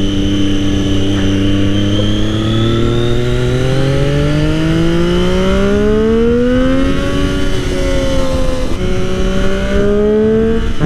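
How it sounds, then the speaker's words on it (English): A Triumph Daytona 675R motorcycle's exhaust rumbles steadily and loudly up close, its engine note rising smoothly in pitch as the bike accelerates, then dipping and climbing again. "that exhaust that Chase has on here gets nice and rumbly"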